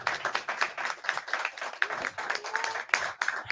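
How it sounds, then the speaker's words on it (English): An audience claps in a hall, a steady patter of many hands at moderate distance with a voice briefly audible underneath. "big round of applause again"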